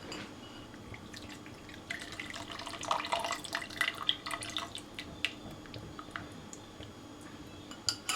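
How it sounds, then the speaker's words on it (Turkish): Water poured over sour meftune mixture and strained for its tangy liquid in a home kitchen, with quiet dripping and trickling, light clinks of dishes and utensils, close and fairly soft, no speech. "Tekrar üzerine su alıp bir daha süzdüreceğim."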